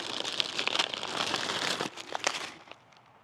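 Close, continuous crinkling and rustling of a thin plastic bag, busy crackles that thin out into a few scattered rustles before stopping.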